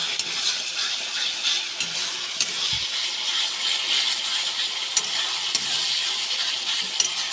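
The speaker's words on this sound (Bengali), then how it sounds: "ভালো করে আদা রসুনটা ভালো করে ভেজে নেব" Ginger and garlic fry in a pan for chicken kosha, giving a continuous hissing sizzle with occasional sharp scrapes and clicks of a stirring utensil.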